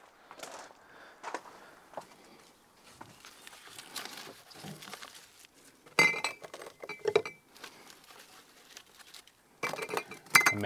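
Glass jars clink and chink as Spanish reed cuttings are placed into them, with scattered light taps, rustles and footsteps, then sharper bright clinks in short clusters toward the end; close and fairly quiet, with no talking.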